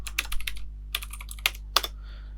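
Keys clatter on a computer keyboard while someone types in Excel, in quick bursts of clicks separated by short pauses and ending with a few single taps. The typing is close and fairly quiet over a low electrical hum.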